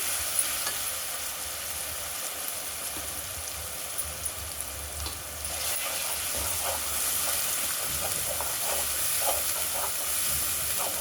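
Ginger garlic paste with turmeric sizzles steadily in a pan, a dense continuous frying hiss with occasional stirring scrapes, growing slightly louder in the second half, no voices.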